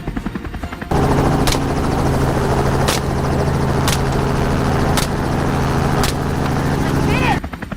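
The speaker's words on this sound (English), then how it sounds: "The pilot steered the helicopter closer" A helicopter flies close during a winter wild boar hunt in a forest: a loud, steady rotor drone with regular sharp cracks about once a second, starting abruptly and holding for several seconds before fading.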